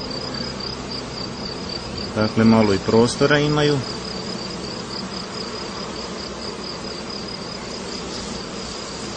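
Honeybees on a hive frame buzz in a steady, close drone throughout, with a person briefly speaking over them.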